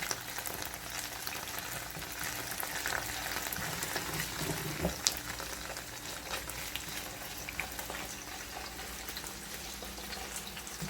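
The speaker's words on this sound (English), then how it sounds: "Add the okra to the onions, so there, let it cook up a little." Okra cooking with onions in a pan for a vegetarian dish, giving a steady low sizzle with soft stirring scrapes and one brief clatter midway, and no voices.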